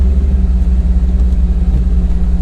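A Jeep ZJ engine idles loud and close with a steady low rumble while four-low is being tested, with no voices over it.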